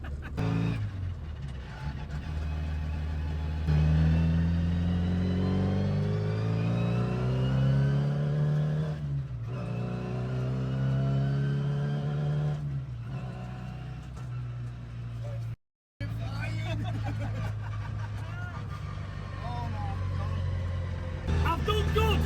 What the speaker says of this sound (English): You didn't think you'd be in a World Rally Classic Mini on a Thursday afternoon.